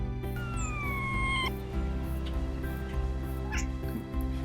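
A cat makes a rapid series of high, chirping chatters and a brief drawn-out caterwaul over a steady low background hum.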